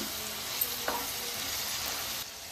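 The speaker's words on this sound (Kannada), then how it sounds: "ಹಾಕಿ ಚೆನ್ನಾಗಿ ಫ್ರೈ ಮಾಡೋಣ ಎಲ್ಲನ." Ginger garlic paste and curry leaves sizzle steadily in a pan for onion rice, a soft continuous frying hiss with a couple of light stirring clicks and no voices.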